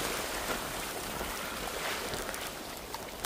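Waves wash against the shore of a windy Norwegian fjord, a continuous broadband rush of water and wind, close and fairly steady without distinct breaks.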